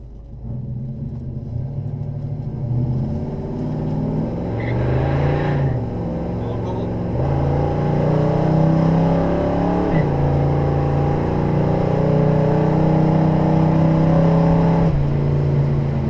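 A 1970 Chevelle 454 SS big-block V8 pulls hard under acceleration with a deep, loud rumble, its pitch climbing and then dropping at gear changes around the middle and end; any tire chirp is not clearly picked out.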